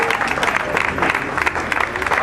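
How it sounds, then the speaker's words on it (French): A crowd at a peace gathering claps in brisk, dense bursts, loud and close, with voices mixed in beneath the applause. "Les autres applaudissent là."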